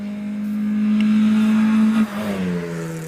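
A standard Mazda MX-5 accelerates hard up a hill climb course, its engine note rising steadily and loud before a gear change dips and resumes the climb.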